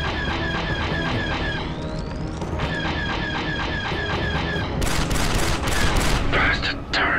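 Turrets fire in Star Wars Republic Commando: dense, rapid bursts of blaster-style gunfire rattle without pause, growing louder and sharper near the end over a busy game soundscape.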